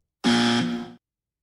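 A single loud, harsh buzzer blast sounds for just under a second, then cuts off into silence.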